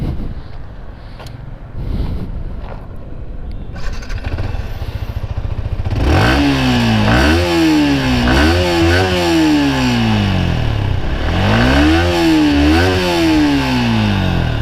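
A Yamaha R15 V3 motorcycle engine idles quietly, then revs loudly several times, each rise in pitch falling back down. The rapid throttle blips sound close and powerful.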